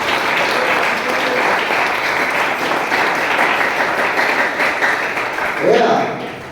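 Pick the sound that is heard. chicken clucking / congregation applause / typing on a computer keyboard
congregation applause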